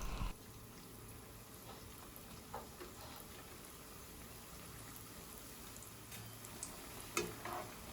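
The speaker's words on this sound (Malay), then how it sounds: "goreng baki popiah ni seperti tadi sehingga garing" Steady bubbling and sizzling of spring rolls deep frying in hot oil until crisp, with a few soft clinks and pops, no talking.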